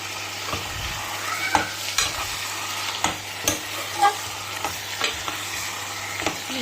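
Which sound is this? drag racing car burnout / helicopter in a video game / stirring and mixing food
stirring and mixing food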